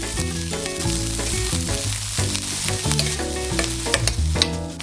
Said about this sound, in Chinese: 锅子热了以后再加入油，加入洋葱，炒到洋葱变软